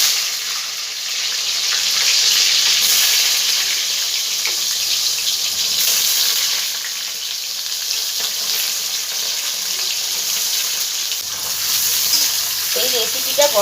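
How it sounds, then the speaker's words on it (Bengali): Pointed gourd (potol) frying in oil, a loud, close, continuous hiss and sizzle that swells and eases, with a faint scrape near the end. "এবার এই তেলটার মধ্যে পটলগুলো সব আমি ভেজে নেব।"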